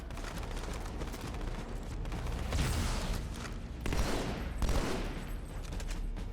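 Halo 2: Anniversary combat, with continuous dense plasma and gunfire shots rattling throughout, with several louder bursts and booming impacts mixed into sustained battle noise.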